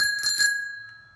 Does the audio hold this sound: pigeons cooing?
no